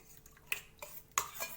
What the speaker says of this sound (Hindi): सबसे पहले हमें मिक्सी जार में फ्रेश दही डालना है।